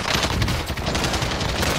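Rapid gunfire rattles in an online shooter game, a dense burst of loud, overlapping shots filling the whole moment with no voices.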